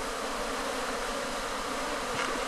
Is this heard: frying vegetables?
no